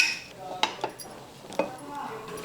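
A pressure cooker lid is opened after paneer pulao has cooked, giving several sharp metallic clanks and clinks spread over a couple of seconds in a quiet kitchen.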